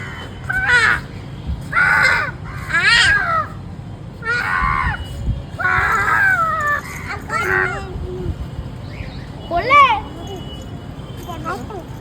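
Crows caw repeatedly in bursts of loud, rasping calls, some close together and others spaced out, while children's voices and talk carry on underneath.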